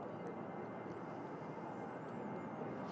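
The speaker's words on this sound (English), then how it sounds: "It's Ryanair rolling out to Dublin." Ryanair airliner taxiing at Manchester Airport, a steady broad jet rumble and whine heard from a distance, constant in level with no talk over it.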